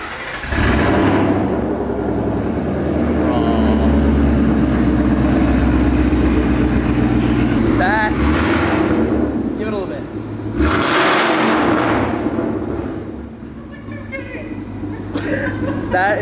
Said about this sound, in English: we're gonna give it its first start with the resonator delete, off-road X, Corsa Extremes